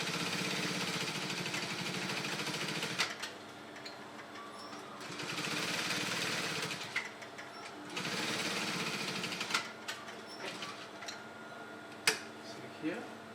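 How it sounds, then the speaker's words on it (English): Close up, a sewing machine runs a second line of stitching along an overlap placket, fast whirring bursts lasting a few seconds each, separated by pauses with small clicks and taps. "So I'm just going to run the second stitch at the side."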